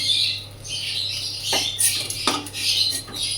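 Fried dried fish is lifted out and dropped into a pot in a home kitchen, with bright metallic scraping and clinking of a utensil against cookware in quick, close bursts.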